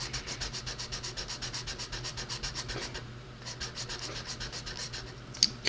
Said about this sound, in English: Get some sandpaper, and we see if we can sand that down this fashion.